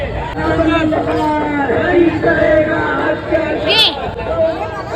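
Dense crowd chatter at a street procession in Jalgaon for Parshuram Jayanti, with overlapping voices and hubbub close around, a brief higher shout standing out near the end.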